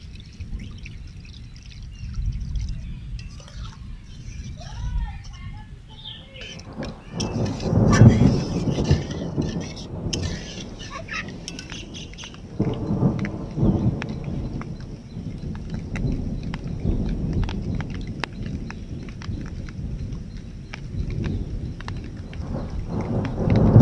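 Heavy rain pours steadily while deep thunder rumbles and swells, growing louder in the middle and again toward the end.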